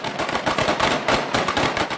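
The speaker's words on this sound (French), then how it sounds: "Le forcené armé est immédiatement stoppé par des dizaines de coups de feu." Dense, rapid automatic gunfire and blasts crackle through a supermarket during a police special forces raid, loud, close bursts overlapping without pause.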